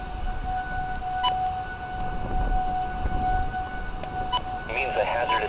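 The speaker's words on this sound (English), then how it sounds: "Tornado sirens at 7 o'clock in the morning." Outdoor tornado warning sirens wail steadily in the distance during an early-morning warning, a sustained tone with a faint second pitch, heard over wind and background rumble.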